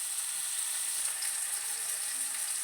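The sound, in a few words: tomato sautéing in pan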